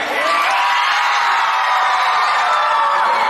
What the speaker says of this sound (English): Go, everybody cheer.